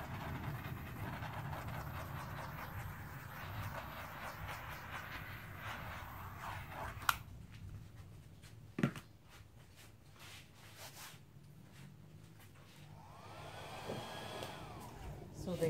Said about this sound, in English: So the hairdryer I use is the right now very, very dirty flower hairdryer by Drew Barrymore.